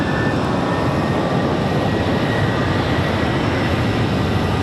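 Loud, continuous roar of an American Airlines Boeing 737-800 jet at Raleigh Durham airport, a dense broadband rumble at close range that stays even throughout, with no talking.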